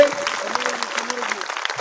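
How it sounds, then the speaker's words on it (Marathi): Crowd at a dhamma conference applauding, a thick continuous patter of many hands clapping throughout, moderately loud, with a faint voice or tonal sound lingering underneath. "एकदा जोरदार टाळ्या वाजवा आपल्या मायबापाच्या हितासाठी"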